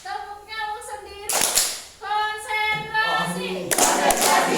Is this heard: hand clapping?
yes